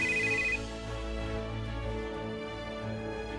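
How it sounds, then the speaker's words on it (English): An in-game phone ringtone in Roblox plays a repeating electronic melody for an incoming call, with a brighter tone at the start settling into steady ringing, moderately loud and alone. "Another phone call from Dad?"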